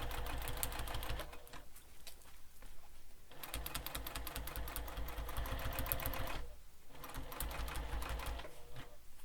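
A sewing machine stitches a backpack in rapid mechanical bursts, running for a few seconds, pausing briefly, then running again at a close, even pace.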